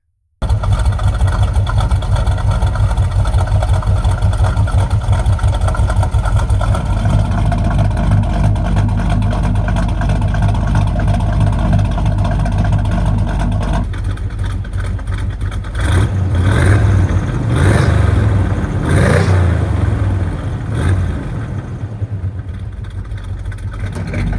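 A pickup truck's exhaust roars loudly and steadily before and after a new exhaust is fitted, with sustained engine drone shifting in tone partway and a few rev surges later on.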